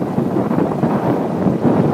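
Steady, loud wind buffeting the microphone of a rider during a group road cycle ride, a dense rumbling roar throughout with no talk.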